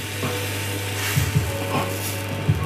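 Light pancake batter sizzling steadily in a new pancake pan, a constant broadband hiss with a low hum beneath and a few soft scraping knocks as the batter is spread, close and moderately loud.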